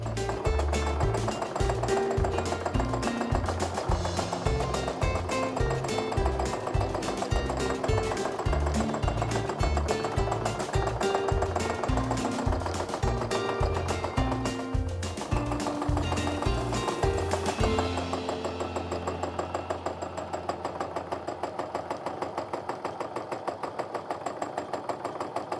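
A sewing machine quilts an overall swirl pattern across fabric, running in a fast, steady mechanical chatter at close range for most of the stretch before easing into a quieter, lighter hum near the end.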